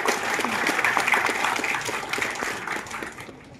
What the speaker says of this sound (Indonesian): Mohon izin untuk memberikan aplaus kepada para undangan yang hadir di sini.